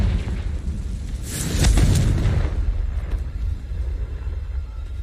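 A Confringo spell explosion in a video game bursts with a loud boom that swells into a heavy rumble, then fades into a lingering low roar.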